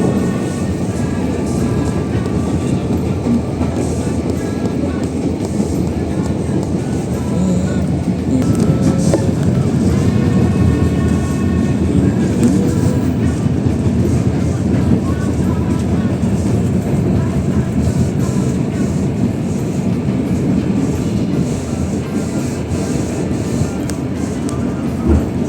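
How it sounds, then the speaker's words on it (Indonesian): A passenger train runs steadily, passing the Ranggajati train, with a continuous loud rumble and rushing noise throughout, heard from inside a priority-class coach, with voices talking faintly in the background. "berpapasan dengan kereta api Ranggajati ya kan"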